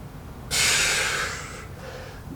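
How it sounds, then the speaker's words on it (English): Heavy, forceful breath rushes out in one long burst during a prone swimmer core exercise, loud and close, then fades to quieter breathing. "Make sure you're getting the breathing in rhythm,"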